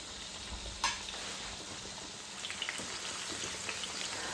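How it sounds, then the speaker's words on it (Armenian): Beans frying together with meat in a pan give a soft, steady sizzle with scattered crackles and a few sharper pops and stirring clicks, close but fairly quiet, with no voices. "մի քիչ սպասենք, թող լոբին տապակվի"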